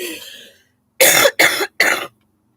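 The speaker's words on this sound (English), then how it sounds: "I'm blowing my nose and I'm coughing" Three loud, close coughs come in quick succession from a person who is unwell, after a brief breathy sound and then silence.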